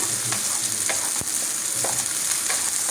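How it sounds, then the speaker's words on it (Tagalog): Meat sizzles steadily in a hot pan while being stirred for pancit, a continuous close frying hiss broken by faint scraping stir sounds. "Ngayon naman po itong karne ang ilalagay ko. Halu-haluin lang po."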